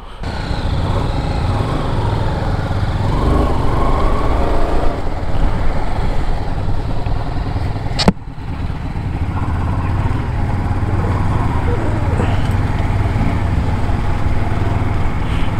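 Several Royal Enfield motorcycles, including a Bullet, run in a group of four bikes, giving a steady, close engine drone throughout with one sharp knock partway through.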